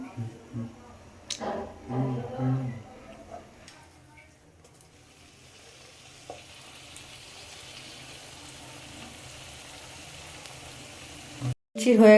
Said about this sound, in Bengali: এখানে দেখো লুচি ভাজা হচ্ছে ফুলকো ফুলকো লুচি